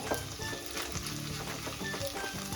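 Urad dal crackling and sizzling steadily in hot oil as a tempering for curd rice, a close, continuous frying hiss with small pops throughout and no talk.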